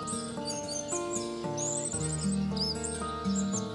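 Orange-headed thrush (anis merah) chirps and twitters in high, repeated calls over a loud, steady musical backing, the bird calls bright and scattered through the clip.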